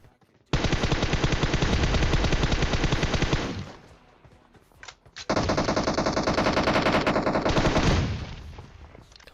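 Automatic gunfire in the mobile battle-royale game PUBG Mobile during a fight between two squads: two long, loud, rapid bursts of rattling shots separated by a brief pause, with scattered single shots between them.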